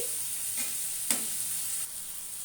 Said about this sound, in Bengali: আর দেবো টমেটো দুটো দিয়ে আলু করে নেড়ে চেড়ে নেব